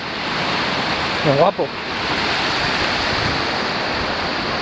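Loud, steady rush of river water flowing beside a climbing route, filling the whole stretch, with a brief spoken exclamation near the middle.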